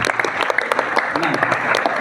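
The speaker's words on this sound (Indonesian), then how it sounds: "Tepuk tangan untuk pertanyaannya." An audience at a Q&A session on elections claps for a question, a short burst of close, lively applause that fills the brief moment.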